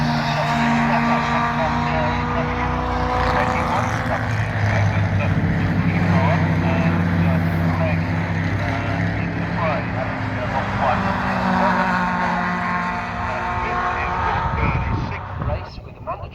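Classic sports race cars with turbo engines race at Thruxton, a sustained loud roar of several engines with rising tones as they pass, while a commentator talks over them.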